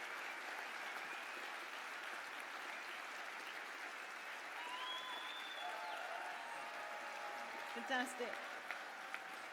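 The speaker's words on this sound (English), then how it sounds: "So graduates, could I ask you now please to stand and give a round of applause for those people." Graduates at a university graduation ceremony give a sustained round of applause, a continuous, fairly faint wash of many hands clapping across a large hall, with a speaker's voice briefly heard over it near the end.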